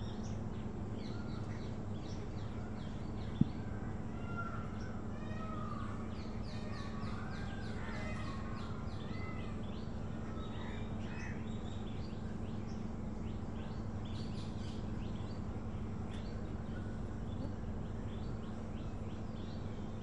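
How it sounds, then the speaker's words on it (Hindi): Assorted birds, peacocks among them, calling faintly and intermittently at a distance over a steady low background hum, with no talk. "बीच बीच में मोर और अलग अलग पंछी भी बोलते हैं"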